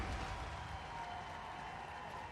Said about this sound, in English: Cheering for Old 11.